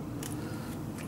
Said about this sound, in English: Can I cut this? Of course I can